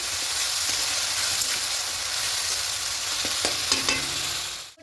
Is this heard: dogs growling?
no